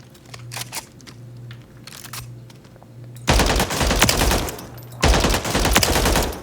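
Holger 5.56 rifle fire in the Warzone video game: a quiet start with scattered single shots, then two loud sustained automatic bursts near the end.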